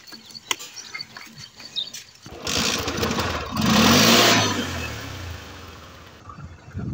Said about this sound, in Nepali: म बाइक निकाल्छु कि अब चाहिँ म जाँदैछु